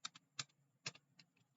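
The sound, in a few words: typing on a computer keyboard and hitting enter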